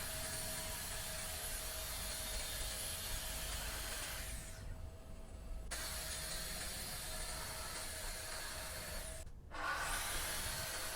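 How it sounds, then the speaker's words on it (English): A track saw cuts straight lines through 12mm MDF template sheets, a loud, steady roaring whine that briefly dips and drops out twice, heard close with no talking. "I use the track saw to do as many of the straight cuts as I can, just because it's the easiest way to do it and the quickest as well."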